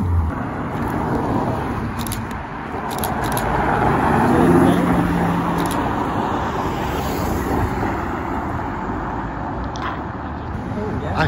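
A rare Ginetta G60 supercar passes on a street in Alderley Edge, its engine swelling to a broad, steady roar around the middle and fading again, set against general road traffic noise.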